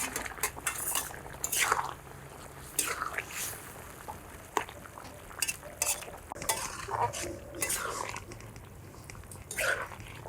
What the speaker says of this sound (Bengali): ভাজা জিরের গুঁড়ো নেড়ে চেড়ে তরকারির সাথে মিশিয়ে দিচ্ছি